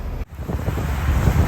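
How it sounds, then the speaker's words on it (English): Wind buffets the microphone on a cruising boat at anchor in heavy rain off the Bahamas, a loud, rough rushing with one brief dropout near the start. "It's raining a lot."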